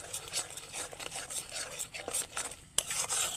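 A spoon scrapes and stirs spices with Kashmiri chilli powder and salt in a pan, in uneven strokes of rasping scrapes that are close and fairly quiet, with a brief pause before a sharp clink.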